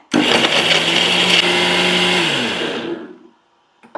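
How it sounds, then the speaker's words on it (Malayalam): An electric mixer grinder whirring loudly as it grinds ingredients, a steady high-pitched motor roar that runs for nearly three seconds, then winds down and falls silent, followed by a faint clunk. "ഇതൊന്ന് നന്നായിട്ട് അരച്ചെടുക്കട്ടെ"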